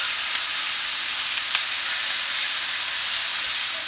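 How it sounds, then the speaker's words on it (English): Meat searing in a hot skillet with no oil, a loud steady broadband sizzle that hisses evenly throughout, close up and uninterrupted by voices. "it's searing beautifully"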